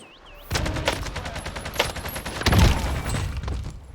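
Rapid bursts of AK rifle fire in the Warzone video game, loud sharp cracks in quick automatic strings with a heavier boom partway through.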